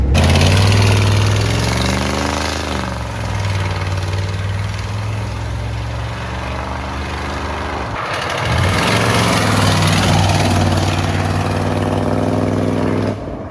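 A Ford F-250 with a 7.3 IDI diesel driving along, its loud exhaust holding a steady deep drone that rises and swells as the truck accelerates, close and constant throughout.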